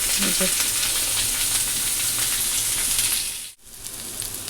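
Dense, loud sizzling of food frying in oil, continuous and close, with a brief dip near the end before the crackle returns.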